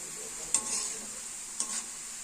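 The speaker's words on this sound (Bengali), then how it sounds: "এই যে আমি আলুর ভুজিয়াটা বসালাম" Potato bhujia sizzles quietly in a pan, a soft steady hiss broken twice by a spoon scraping and clinking against the metal.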